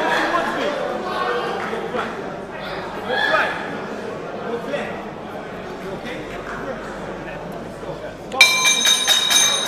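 A bell ends the round at a boxing match, ringing out clearly near the end over steady crowd chatter and arena murmur.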